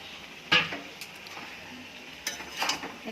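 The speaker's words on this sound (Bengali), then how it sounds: "এখন আমি সবজিটা দিয়ে দিচ্ছি" Fried vegetables tip into a vegetarian curry pan with soft sizzling, a sharp clatter as they land, then quieter stirring scrapes and a few utensil knocks near the end, with no talk.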